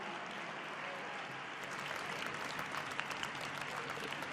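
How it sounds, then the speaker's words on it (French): Audience at a Grand Palais show applauds journalists, a dense, even roll of clapping from a large crowd that stays fairly distant and soft throughout. "Vous pouvez les applaudir."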